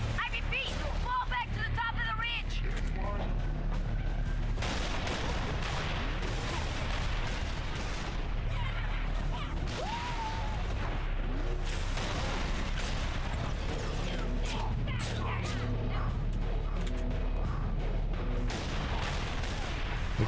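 Dense, continuous gunfire and booming blasts in the shooter game Halo ODST, with scattered shots and impacts over a busy game soundscape; a voice talks at times over the action.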